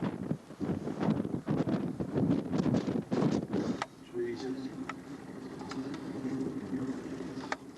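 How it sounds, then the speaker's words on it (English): Wind buffeting the microphone on the Gunbarrel Highway near Mount Beadell, a rough roaring gust that drops to a steadier background hiss with a low engine drone and a few ticks. "How blowy is it?"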